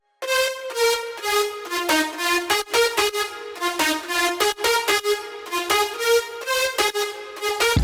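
Nine bright, stacked synth leads play a fast, repeating melody in FL Studio with a hiss of white noise blended underneath, loud and dense throughout.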